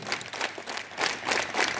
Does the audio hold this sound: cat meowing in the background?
no